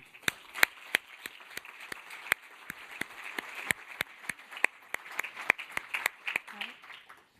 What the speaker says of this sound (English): please give a warm applause to Gael Thalmann